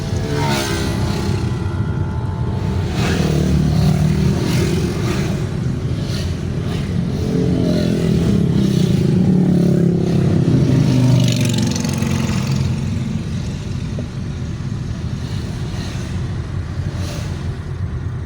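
Motorcycles and cars pass and idle at a busy rest area on the Puncak road near Bogor, with a continuous close engine rumble and rising revs, the traffic steady and loud throughout with no speech.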